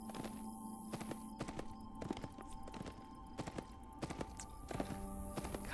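Horse hooves in the Fallen Earth online game, a steady clip-clop of trotting steps repeating rhythmically at close range, fairly quiet, with no talking.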